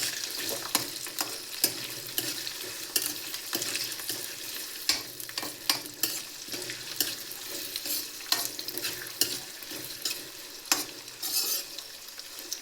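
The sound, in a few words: onions frying in oil while stirred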